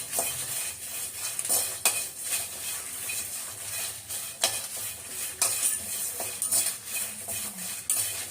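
Dried red chillies and tamarind dry-roasting in a pan without oil, with steady scraping and stirring from a spatula, metallic clinks against the pan and a soft background hiss throughout.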